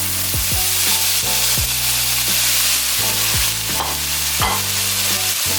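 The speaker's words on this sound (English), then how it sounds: "While my veggies are sauteing" Vegetables with garlic and onion sauteing in a pan for spaghetti sauce, a continuous close sizzle with occasional scraping stirs, no talking.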